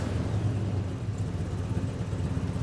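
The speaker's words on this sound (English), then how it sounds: "with this GTO, let's hear this thing fire up" Pontiac GTO muscle car engine running at a steady, loud idle with a deep low rumble throughout, no clear revving bursts.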